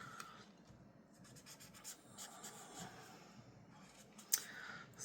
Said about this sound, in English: So let's just trim those little edge a little bit more